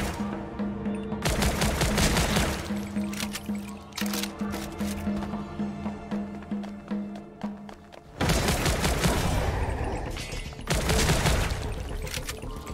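Rapid gunfire from a gun in the video game Zombotron comes in dense bursts of sharp repeated shots, pausing briefly and then resuming loud, over a steady game background.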